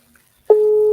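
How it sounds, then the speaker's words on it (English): A steady electronic telephone tone starts abruptly after a brief silence and holds at one pitch, loud and close. "I think it's ringing."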